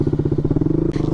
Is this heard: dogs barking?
no